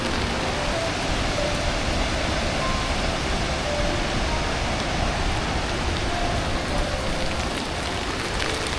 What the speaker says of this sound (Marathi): पावसाने जोर धरलेला आहे.